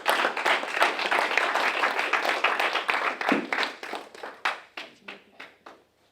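A church congregation claps and applauds loudly and steadily, many hands together at close range. Partway through, the applause thins into fewer, separate claps that slowly die away.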